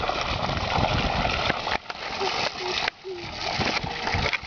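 A river in India flows with a steady, broad rushing wash that stays fairly close and continuous, briefly dipping twice, with talk faintly mixed in.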